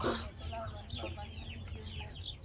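Chickens cluck and chatter close by in quick, uneven bursts, with faint background noise.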